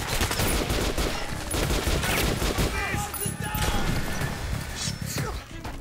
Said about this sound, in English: I wonder if it makes a different noise whenever I shoot with golden bullets